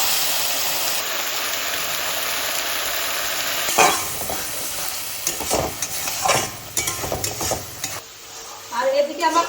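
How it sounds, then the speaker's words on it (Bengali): Dried chilli, cinnamon, cardamom, clove, cumin, onion, ginger and garlic sizzle in hot mustard oil left from frying fish, a steady hiss giving way to bursts of stirring and spluttering crackle. "মাছ ভাজা তেলে ফোড়ন দেবো শুকনো লঙ্কা, দারচিনি, এলাচ, লবঙ্গ আর জিরে"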